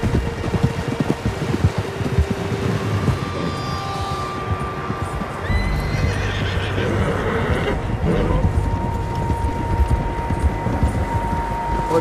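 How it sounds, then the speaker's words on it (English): Horses whinny in a video game set in an outdoor area near a lake, with a long neigh ringing out over steady wind-like ambience and a rumble of hooves and movement beneath. "Horses, quite a few of them"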